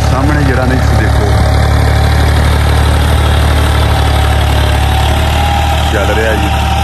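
A Massey Ferguson 260 tractor engine runs close and loud with a steady, heavy diesel chug and constant vibration, while someone talks over the noise throughout.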